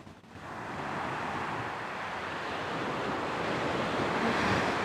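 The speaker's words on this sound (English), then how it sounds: "This is the beach." Surf rolls in at Pantai Cenang beach on Langkawi, a broad steady wash of waves with wind rumble on the microphone, continuous and fairly loud with no voices.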